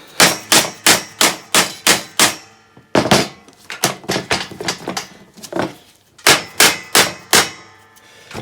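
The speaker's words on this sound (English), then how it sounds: "this dead blow hammer's not taking any of it off" Repeated heavy dead blow hammer blows strike metal on an MGB GT in quick bursts of five or six, with short pauses between groups, loud and close.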